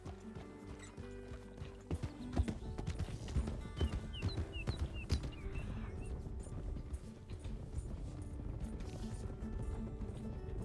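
A single horse gallops in a video game, its hooves making a steady, close clip-clop that runs without a break, with a low rumbling background and no talk.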